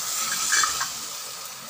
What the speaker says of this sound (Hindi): जैसे ही चमचा हम डालेंगे रायते के अंदर वैसे ही हम लिड को तुरंत कवर कर देंगे